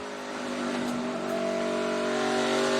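A race car at a 2022 ToyotaCare 250 practice session drones past at speed, its engine holding a steady pitch that climbs slightly, with a rough broadband wash that fits the skirts scraping the track surface.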